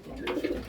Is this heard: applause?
no